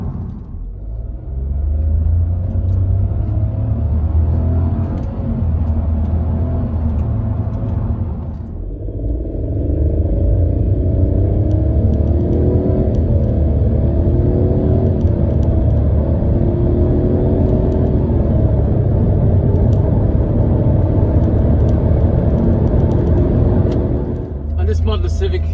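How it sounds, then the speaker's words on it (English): Honda Civic 1.0 turbo with a CVT accelerating hard through simulated gears, a steady low engine drone and road rumble inside the cabin with a brief dip around the shift, continuous and fairly loud. "I can floor the car, second, into third, into fourth, into fifth, and then I can slow down similarly, 5, 4, 3."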